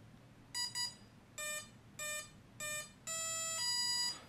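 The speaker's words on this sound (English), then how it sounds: "So it gave us confirmation beep, beep, beep, beep" An RC airplane's ESC, freshly wired to a motor and plugged into a 3-cell LiPo battery, gives a clear series of electronic confirmation beeps: two short tones, three separate beeps, then a longer sustained tone, crisp and close in a quiet room.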